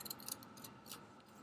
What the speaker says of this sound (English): I'm just going to take some scissors and cut across here